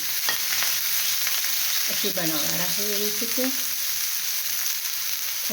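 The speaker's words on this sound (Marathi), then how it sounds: "पहिल्यांदा टाकत आहे तेल आणि यामध्ये आता टाकत आहे कांदा" Onion sizzling in oil on a tawa for egg bhurji, a steady bright frying hiss throughout with faint stirring, as someone briefly speaks over the sizzle.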